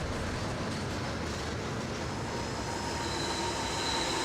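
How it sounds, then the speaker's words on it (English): An HO scale model coal train runs along layout track toward the yard, giving a steady, continuous rolling rumble with faint metallic wheel whine, close and even throughout with no talking. "As the coal train pulls into the yard"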